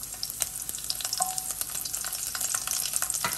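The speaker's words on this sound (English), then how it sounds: "We're gonna saute that around." Garlic cloves sauté in coconut oil in a pot for a curry lamb stew, giving a steady, close sizzle with crackles and light stirring scrapes throughout.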